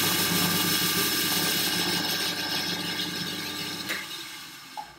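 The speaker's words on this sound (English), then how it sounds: "This wire wheel on the lathe is working really well" A wire wheel spins on a belt-driven lathe with a steady, loud mechanical whir and hiss that slowly fades as it winds down, ending with a small knock.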